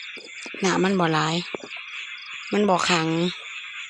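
Small frogs croak in a shallow rice field at the first rain of the season, a steady, fairly faint chirring chorus that runs beneath a person speaking in two short bursts.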